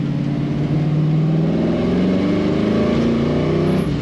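Steady, loud hum of a 1970 Ford Mustang Mach 1 engine cruising in third gear around a traffic circle, a continuous drone with slight pitch shifts as it drives.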